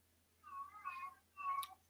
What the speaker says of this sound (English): Please excuse the screaming cat in the background.